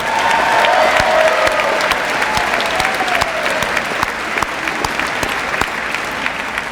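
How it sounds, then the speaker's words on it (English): A graduation audience at the Goffstown Class of 2019 ceremony gives loud, sustained applause, with sharp individual claps over a thick wash of clapping and faint cheering mixed in. "How about a big round of applause again for all of our heading into the service."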